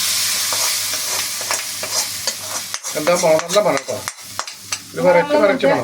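Duck curry in coconut milk stirred in a pan, with soft scraping strokes over a light sizzle, close and fairly loud, then a voice talks over the cooking in the second half.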